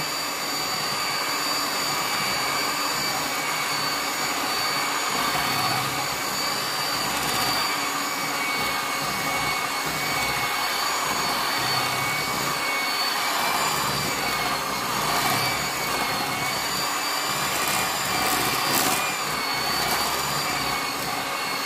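A George Wilkinson electric hand mixer runs steadily at its lowest speed, whisking lemon cake batter with a continuous, fairly loud motor whine and no pauses. Nobody speaks.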